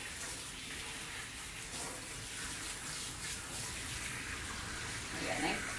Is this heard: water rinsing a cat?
yes